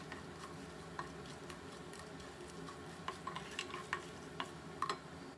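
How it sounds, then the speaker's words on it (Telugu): Quiet, steady sizzling of lentils, mustard seeds and cumin frying in oil, with scattered small pops and crackles that grow more frequent toward the end. "ఈ పోపుని ఇలా వేయించుకుందాము."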